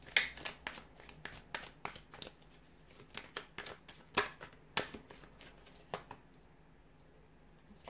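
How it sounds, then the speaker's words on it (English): Tarot cards are shuffled close up, a run of crisp riffling snaps and soft slides repeating in an uneven rhythm, quiet and alone with no talk. "So we'll give the cards a shuffle and see what they're predicting for you."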